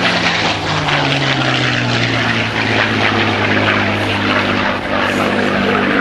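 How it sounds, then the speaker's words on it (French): A P-51 Mustang fighter with a Rolls-Royce Merlin V12 engine of 27 litres and about 1,400 horsepower gives a loud, steady, close propeller drone with a strong, even engine tone throughout. "C'était un moteur Merlin, 12 cylindres en V, 27 litres décylindrés, 1400 chevaux au départ."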